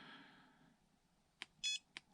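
A Flysky FS-G7P radio transmitter gives a short series of electronic alarm beeps, several quick uneven chirps after a faint murmur, heard close and fairly quiet.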